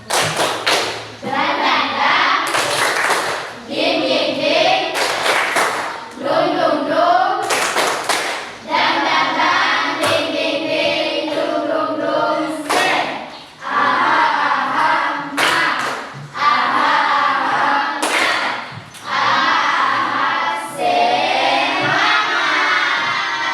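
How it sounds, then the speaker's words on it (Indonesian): A group in a training class claps a rhythmic 'tepuk semangat' cheer, bursts of sharp claps and hand thumps in patterned runs, with voices chanting and calling along between the clapping. "Tepuk semangat."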